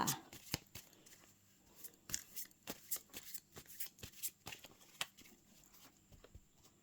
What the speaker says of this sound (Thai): ขอเป็นตัวแทนสับไพ่ตัดไพ่ ให้คนเกิดวันอาทิตย์ค่ะ